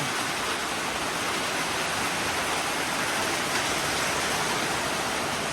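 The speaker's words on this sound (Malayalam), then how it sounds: "ചെറിയൊരു മഴ പെയ്ത് തുടങ്ങിയിട്ടുണ്ട് കേട്ടോ" Light rain falls steadily at a home solar installation site, a continuous even hiss filling the space without pause or voices.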